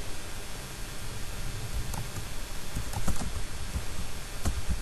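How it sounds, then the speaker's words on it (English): Computer keyboard keys clacking steadily while C++ code is typed, a close, continuous patter of keystrokes with a few sharper taps and no voice. "let's go ahead and type try"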